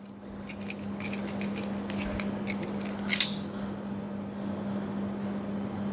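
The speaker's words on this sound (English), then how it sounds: "Now I'm going to cut this open." A knife cuts open a pomegranate, giving light clicks and scrapes of the blade through the peel and a brief sharper crunch midway, close up over a steady low mains-like hum.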